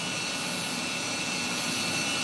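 A Milwaukee Gen 2 leaf blower running on its low setting gives a steady, loud, jet-like roar that holds constant throughout with no voices.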